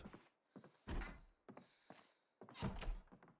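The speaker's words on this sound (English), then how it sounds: "Oh, let me close the door." A door closes in the video game Project Zomboid with a few soft, muffled thunks and knocks spread over a few seconds, quiet and close.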